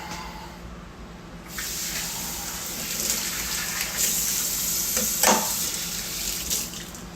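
Steady running tap water rushing into a sink while a mixing bowl is rinsed, a continuous close splashing hiss that grows a little fuller partway through, with no talking.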